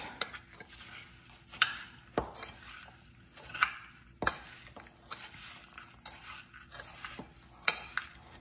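Butter being stirred into a hash brown casserole mixture: a spoon scrapes and clacks against the dish in repeated uneven strokes, with several sharp knocks, close and fairly quiet, no talking.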